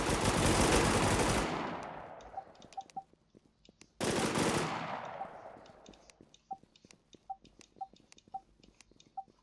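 Long bursts of automatic gunfire from the online shooter Warz JapanZ, two sustained volleys followed by scattered single shots and clicks, loud and close in the game mix.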